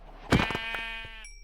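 A sheep in the video game Minecraft lets out a single loud, wavering bleat up close, followed by a short high electronic tone at the end.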